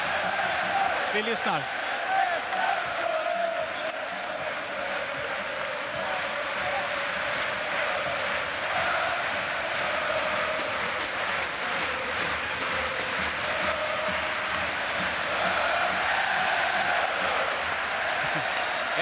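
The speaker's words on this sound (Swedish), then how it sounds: "Ja, vilken hyllning av publiken." Ice hockey arena crowd at a Swedish championship final between Färjestad and Frölunda, a dense continuous roar of cheering and applause filling the venue, with a commentator talking over it.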